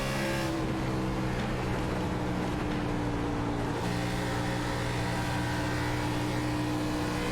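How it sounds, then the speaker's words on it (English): A sim race car engine roars continuously from on board at Kentucky, a loud sustained drone with a brief shift in pitch partway through as the throttle lifts, no voices. "Let's just take a few moments to listen to that engine on board"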